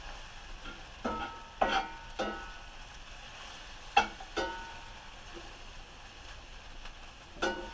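Mushrooms cooking in olive oil in a pan for fajitas, a low steady sizzle broken by a handful of sharp scrapes and stirring clatters.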